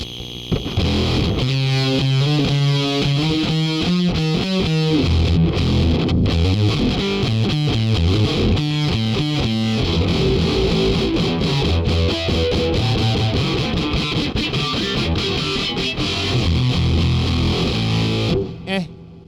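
A heavily fuzzed, distorted electric guitar played through a Burst Box-style fuzz pedal plays chugging riffs and sustained chords, thick and saturated, with no talking.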